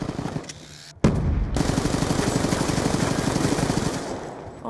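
Automatic gunfire in a close Black Ops 2 one-on-one gunfight: after a quieter start, a loud sustained burst of rapid, evenly spaced shots begins at about one second and runs for over three seconds before tapering.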